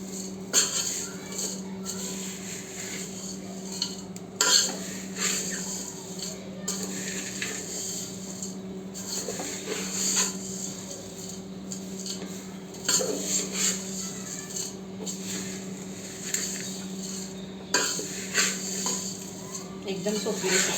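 Poha chivda being stirred and roasted in a pan, with steady scraping and clinks of a spoon against metal and a faint background hum, continuing without pause at a moderate, close level.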